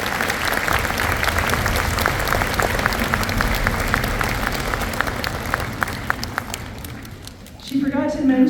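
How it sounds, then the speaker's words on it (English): Concert audience at a spring string concert applauds steadily for about seven seconds, a dense wash of clapping that fades near the end as a voice begins speaking. "Let's give them a round of applause."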